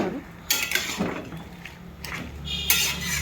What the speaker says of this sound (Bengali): পালংটা একটু এবার আমি নাড়াচাড়া করে দেবো।